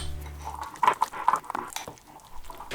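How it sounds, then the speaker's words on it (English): A small splash of water goes into a BBQ marinade in a kitchen, giving a few quiet, close drips and soft wet squishes over about two seconds. "now it does need a splash of water just to loosen it up a bit"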